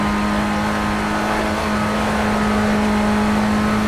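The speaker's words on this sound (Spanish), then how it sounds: "Es un coche de carreras, pequeño, ¿vale? De principiante." Small Formula Rookie race car engine in Project CARS at the Nürburgring, a loud, steady high-pitched whine held close and constant with a strong tonal hum, alone without voices.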